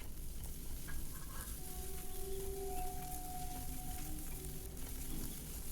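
Crushed ginger and garlic sauté in hot oil in a pan for a beef masala, giving a steady, fairly quiet sizzle throughout with a few faint tonal hums behind it.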